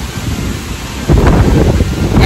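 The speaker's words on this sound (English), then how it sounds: "So it's super windy today" Strong wind roars across an Appalachian Trail campsite, a close, heavy rumble that surges louder about halfway through.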